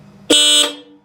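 Jeep horn newly installed on a Project RockLander build gives one loud, steady blast of about a third of a second with a bright two-tone ring, then fades quickly into quiet.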